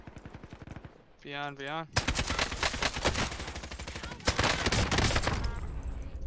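Rapid automatic gunfire in the game Warzone, dense bursts of shots up close and loud, with a voice briefly speaking over the opening before the firing takes over.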